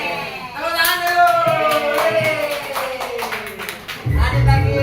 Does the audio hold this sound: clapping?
yes